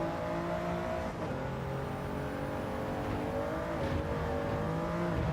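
A race car engine in Gran Turismo 7 holds a steady, loud, high whine at near-constant revs for several seconds, with slight pitch shifts and tire whir over bumps.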